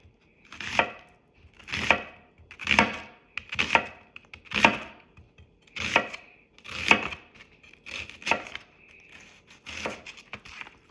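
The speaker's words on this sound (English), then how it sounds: "Gonna slice my onion so I get some nice good slices here." A chef's knife slices through an onion on a cutting board in a steady rhythm of about eleven crisp, close cuts, each a short crunchy snap.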